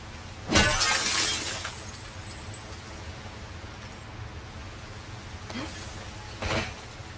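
Glass shatters in The Last of Us Part II, a loud bright crash early on that rings out for about a second, followed later by two shorter, quieter breaking bursts over a steady low background.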